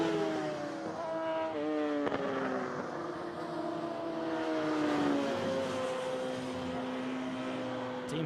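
Racing sidecar outfits scream past at the Sachsenring circuit, several high-revving engines heard at a distance with pitches sliding up and down as they pass, forming a continuous layered motor drone.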